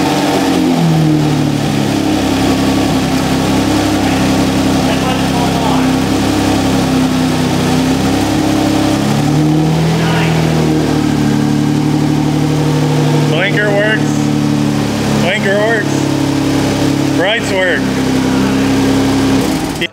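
A Nissan R35 GT-R, rebuilt after a wreck, has its engine started and left running, a loud steady idle with slight revving heard up close, while people talk and faint clicks sound intermittently.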